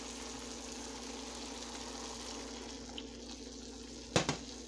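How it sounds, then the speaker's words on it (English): Water pours steadily into a pan of turkey chop gravy, a soft continuous wash of liquid that runs throughout, with a few brief clinks near the end. "Right now, I'm at about 1/4 of a cup of water in here. I'm going to add a little more."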